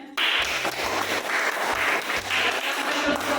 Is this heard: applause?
yes